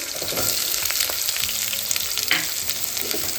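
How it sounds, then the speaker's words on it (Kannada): Garlic, curry leaves, green chillies and onion frying together in hot oil for methi pappu, a dense crackling sizzle close up with a few stirring scrapes, no speech. "ಬೆಳ್ಳುಳ್ಳಿ ಕರಿಬೇವು ಮತ್ತು ಹಸಿರು ಮೆಣಸಿನ್ಕಾಯಿ ಒಟ್ಟಿಗೆ ಹಾಕ್ತಾಯಿದ್ದೀನಿ ನೆಕ್ಸ್ಟ್ ಈರುಳ್ಳಿ"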